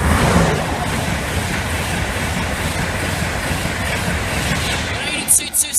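A Class 91 electric locomotive hauls a King's Cross to Edinburgh Waverley express past a level crossing, a loud steady roar and wheel rattle close by, ending with faint squeaks as it clears.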